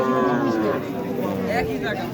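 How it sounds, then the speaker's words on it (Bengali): Sindhi breed cattle at a rural livestock market in Taherpur, one cow lowing loudly and close in a long drawn moo over crowd noise, with voices talking in the background. "দেখছেন সিন্ধি গরু"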